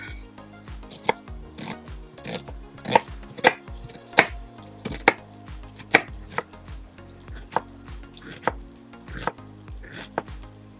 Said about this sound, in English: just to chop an onion. This one is yellow onion